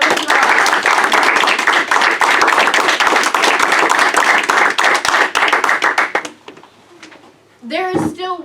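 An audience claps loudly at a young magicians' show, a dense, steady burst of hand claps lasting about six seconds, then fading as a presenter starts speaking.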